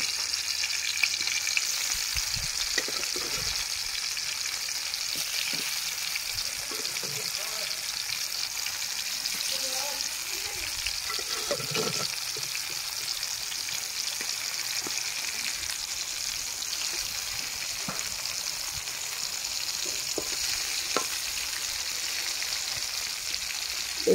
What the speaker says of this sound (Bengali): বাকি বেগুনগুলো ভেজে নেব।